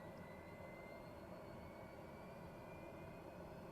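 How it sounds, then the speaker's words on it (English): A TBM 930 turboprop in Microsoft Flight Simulator 2020 holds at low idle with a steady, even engine drone and a faint high whine, unchanging and quiet throughout. "So roll the throttle into low idle"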